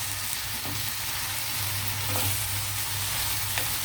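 Amaranth leaves and dried shrimp sizzle and fry steadily in a pan, a close, continuous crackle with faint stirring scrapes and no talking.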